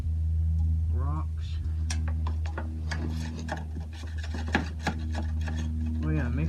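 Dirt, sticks and rocks are stirred into the oil of a lawnmower, producing close, gritty rubbing and scraping strokes over a low steady hum. A voice is heard intermittently.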